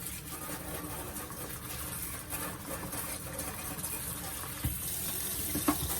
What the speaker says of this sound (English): Rinse all these leaves off.